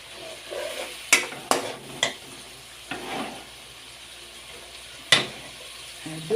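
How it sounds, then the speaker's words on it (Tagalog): String bean adobo cooking in a pan with meat, with gentle frying sizzle under several sharp clinks and scrapes of a utensil stirring against the pan, spaced irregularly. "Magluluto po tayo ng adobong sitaw."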